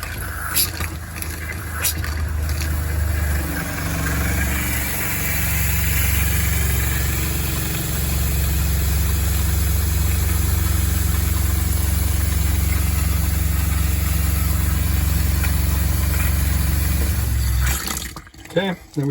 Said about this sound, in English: I'll turn on the pump and start flushing this clean water through